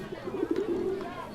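Pigeon cooing in a soft, low, rolling series of calls close by, with faint background sound underneath.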